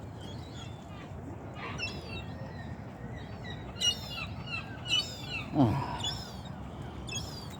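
Gull calls ring out on a town beach in Conwy, a few sharp cries rising over steady wind and surf noise, with someone speaking briefly nearby.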